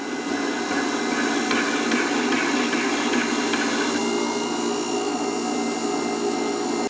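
A Tormek SVH-320 attachment holds a planer/jointer blade against a spinning hone, giving a steady whirring, rubbing drone with a faint motor hum, continuous and close, without talk.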